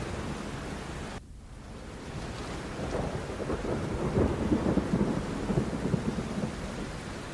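Heavy monsoon rain pours steadily over Pune while thunder rumbles, a dense hiss of downpour swelling with deep low rolls after a brief dip.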